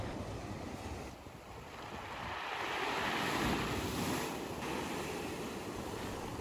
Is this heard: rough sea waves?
yes